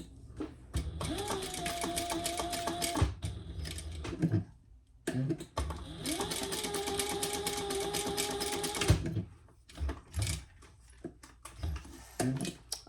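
A sewing machine stitches a strap folded over a key swivel clasp in two bursts of steady needle whirring, separated and followed by short pauses with handling clicks and a little speech.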